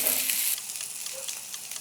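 London broil steak sizzles steadily on a grill, a continuous hiss and crackle that runs the whole time at a fairly even level, a little louder in the opening moments.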